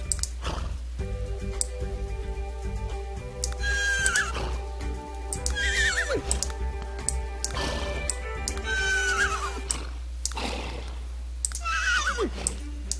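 Horse neighing in The Sims Pets video game: several loud, drawn-out whinnies with pauses between them, alongside soft clip-clop hoof sounds and faint background noise.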